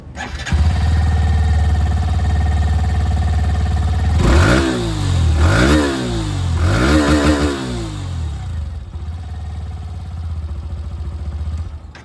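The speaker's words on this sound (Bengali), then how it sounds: "এবার আপনাদেরকে আমি এখানে যে গ্ল্যামার 125, গ্ল্যামার X125, এটার আওয়াজটা শুনিয়ে দিই" A Hero Glamour X125 125cc motorcycle starts up close by and settles into a steady idle. It then gives three sharp rising revs before dropping back to a quieter idle, with no talking.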